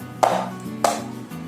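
Knife chopping through jackfruit being cleaned and cut for a vegetable dish, two crisp cuts spaced about half a second apart, close and clear, with a low steady hum underneath.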